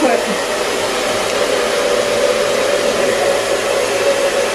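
A handheld hair dryer set to high heat and low airflow runs steadily and loudly throughout, a constant close whooshing hum with a faint whine and no pauses or voices.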